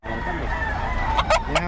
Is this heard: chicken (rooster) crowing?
yes